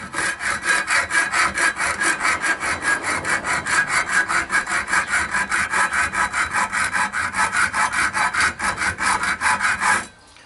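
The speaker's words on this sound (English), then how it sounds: "just using a hacksaw, I'm going to go ahead and cut that in half." A hacksaw cuts a copper coupling held over a wood dowel with loud, even back-and-forth strokes, a steady rasping rhythm of about three strokes a second that stops abruptly near the end.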